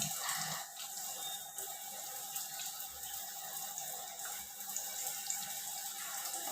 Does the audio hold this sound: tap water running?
yes